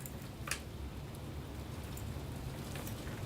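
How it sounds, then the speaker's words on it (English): Heavy rain pours down in a steady, dense hiss with a few sharper drops standing out, continuous and fairly close, with no voices over it. "Man, it is raining really hard."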